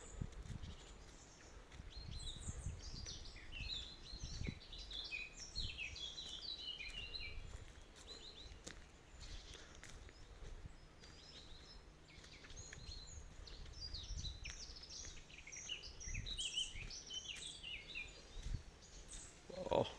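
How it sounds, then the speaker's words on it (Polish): Chaffinches, great tits and a blackbird call by a lake in scattered bursts of chirps and short notes, fairly distant, over soft rustling and low outdoor noise. "To, to są odzywające się zięby. No są też sikory, bogatki."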